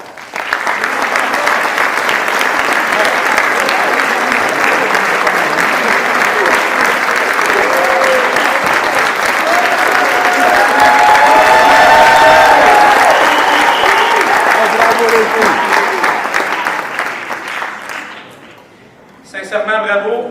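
A school assembly audience gives a long, loud, steady round of applause for the school staff at a success celebration. The clapping is dense and sustained, dips briefly near the end, then picks up again.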